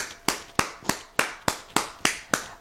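Church congregation clapping in unison, eight sharp, evenly spaced claps in a steady rhythm, close and clear with no voices over them.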